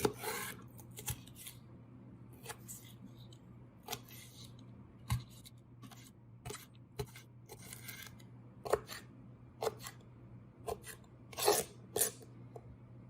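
A knife dicing yellow peppers gives scattered, sharp taps at an irregular, unhurried pace, fairly quiet over a low steady hum.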